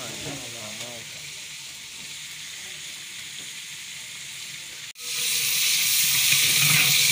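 Onions frying in ghee for chicken korma, a steady close sizzle that jumps louder partway through as the pan flares, with no talk over it.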